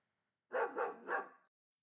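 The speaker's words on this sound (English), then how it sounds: "the Mouse Traveler, you could get it to bark though." A dog barks three times in quick succession, short and clear against silence, a sound effect triggered by a live stream chat command.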